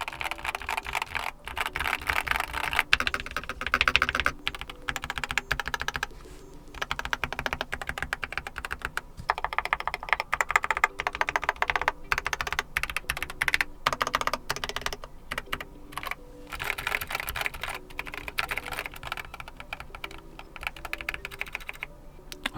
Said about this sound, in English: depending on what the surface you are using this keyboard on, the sound might change a little bit